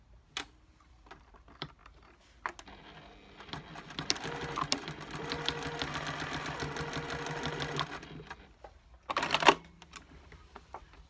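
A sewing machine stitches fabric for a free-motion English landscape cushion, running in a steady close whir for several seconds after a few short starts, then a brief quick burst near the end, with no talk.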